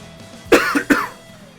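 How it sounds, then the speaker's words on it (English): A quick burst of three harsh coughs, close and fairly loud, with a short pause before the last one and quiet afterward. "gonna cough for a second."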